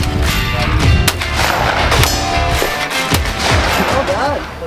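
Gunfire at a gun club shooting event for a real estate client appreciation day, rapid repeated shots cracking in an irregular stream alongside .22 rifles and single action revolvers, loud and continuous throughout.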